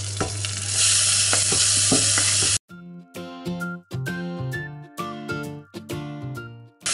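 Finely chopped onion and carrot sizzle loudly in hot fat in a pan for about two and a half seconds, then cut off abruptly as music takes over for the rest.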